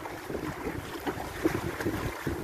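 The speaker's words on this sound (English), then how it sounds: "Getting a few gusts of wind that really pick up once in a while, but mostly it's a steady breeze." Steady breeze with occasional stronger gusts buffeting the microphone while sailing a boat off Koh Samui, a continuous moderate rush with brief swells in loudness and no talking.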